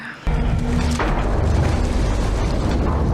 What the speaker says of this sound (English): It went smooth until they shot Bob